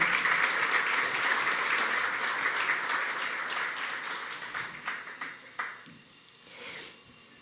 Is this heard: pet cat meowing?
no